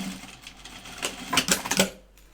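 A sewing machine stitching a medical mask: a short, close burst of rapid mechanical needle stitching that rises and then stops, fairly quiet and with no talk.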